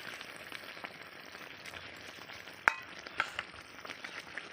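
Cashew and poppy seed paste fries in a pan with potatoes and peas, a soft steady sizzle with a few sharp clinks and stirring knocks, close and without talk.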